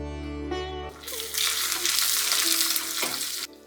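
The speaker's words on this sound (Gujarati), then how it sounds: "જેમ ખમણનો વઘાર લેતા હોઈએ એવી રીતે આપણે વઘાર લીધો છે" Tempering (vaghar) being poured or stirred in hot oil for sorghum flour dhokla, a steady loud sizzle bursting in after a brief tonal hum and continuing for a few seconds before cutting off.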